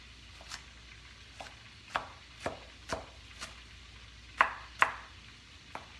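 A knife chops food on a cutting board in a home kitchen, with about a dozen sharp, irregular strikes close by, some louder than others, and no talking.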